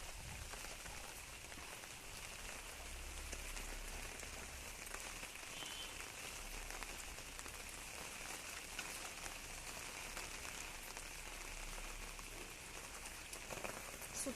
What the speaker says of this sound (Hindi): बहुत वर्षा हो